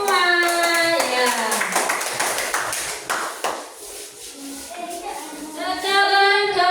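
Students clap in a classroom after a group presentation on food chains. Quick, uneven claps build up and then fade, mixed with high children's voices at the start and end.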